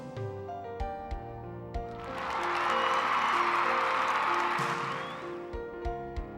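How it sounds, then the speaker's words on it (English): Applause sound effect from the video game Super Robot Wars Alpha 3, swelling up midway over the game's ongoing music and tonal chimes, then fading back out. "a round of applause"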